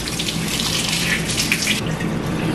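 Hot water running steadily from a faucet into a sink, a loud continuous gushing stream with a slight change in tone near the end.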